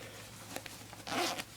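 A short zipper pull on a sleeve pocket rasps close by, a couple of faint ticks then a quick louder zip near the end.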